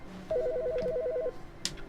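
A telephone in the video game The Stanley Parable: Ultra Deluxe gives a short electronic warbling ring, one burst of rapidly alternating tones lasting about a second, followed by a faint click.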